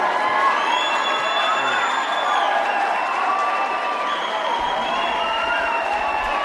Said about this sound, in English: Now they're all cheering because they want him to run.